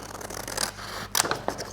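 Scissors cut through card for a handmade hug card craft, a few crisp snips and scraping rubs of paper close by, separated by short pauses, with no talk.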